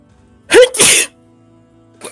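A single loud sneeze close by, a sharp intake followed by an explosive burst, then near silence with a faint sound at the end.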